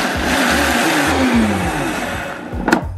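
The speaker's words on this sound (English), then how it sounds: "blitz about 1 cup of oats in the blender" A blender blitzes about a cup of oats into rough oat flour for a vegan Christmas recipe, giving a steady, loud motor whir that runs the whole time and shifts in pitch as the oats break down.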